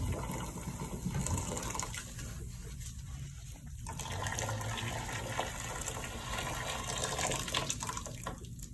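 Water running and gurgling as it drains from a clogged sink treated with salt and baking soda, a steady close wash of liquid flow with bubbling, continuous throughout without talk.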